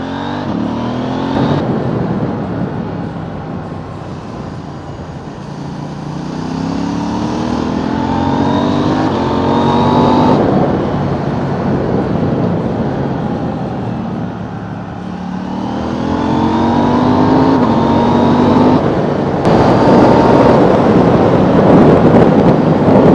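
A KTM 790 motorcycle with an Akrapovic exhaust is ridden on an outing to scrub in new tyres. It accelerates again and again through the gears, with wind buffeting the microphone.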